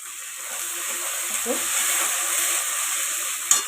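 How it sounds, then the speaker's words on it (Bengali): Ginger paste dropped into hot oil while frying for a mutton curry, a steady close sizzle and crackle with brief stirring scrapes and a sharp clatter near the end. "তার মধ্যে আমি দেব ওই চামচের 1 চামচ আদা বাটা দিয়ে দেবো।"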